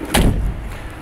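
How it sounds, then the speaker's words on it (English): A single solid thud as the door of a 1956 Ford Customline classic car pops open via its latch, a short loud knock followed by quiet. "You pop the hood and pop this door open with that latch."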